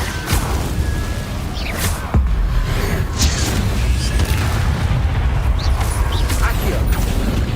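Fire spells cast in a Harry Potter video game, a run of booming magical blasts and whooshing bursts, one sharp loud hit partway through followed by steady rumbling effects and scattered impacts.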